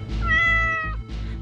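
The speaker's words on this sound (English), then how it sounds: "My cat Whiskers." A cat stuck up in a tree gives one long, clear, close meow that rises and then falls, followed by a short, softer vocal sound.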